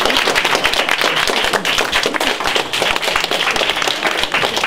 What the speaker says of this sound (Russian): вызвала в зале суда бурные аплодисменты